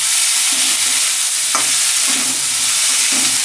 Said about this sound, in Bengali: জিরাটা একটু ভাজি হবে, তারপরে আমরা ডাটা আর আলুটা আগে দিব